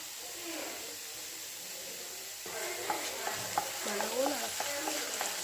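Sauce is stirred in a pan for Maggi-flavoured macaroni. A low sizzle opens the sound, then repeated close scraping strokes of a spoon against the pan begin and continue over a soft hiss.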